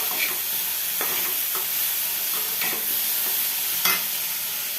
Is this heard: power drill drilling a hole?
no